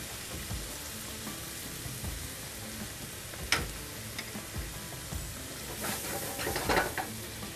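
Mushrooms cooking in a pan with mushroom broth and roast sauce, a soft steady sizzle with a few sharp utensil clicks and stirring scrapes, quiet and without talk.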